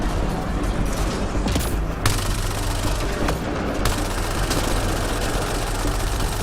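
Continuous automatic weapon fire from Mass Effect Andromeda, with dense rapid shots over a low engine-like rumble and a few sharper bursts standing out, loud and steady throughout.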